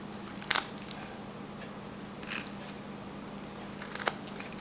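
Knife cutting across wood while whittling a carved figure, a few short, crisp scraping cuts spaced apart over a quiet background hum.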